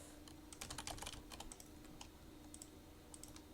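Typing on a computer keyboard, a quick burst of clustered key clicks followed by a pause and a few sparser taps, close and fairly quiet.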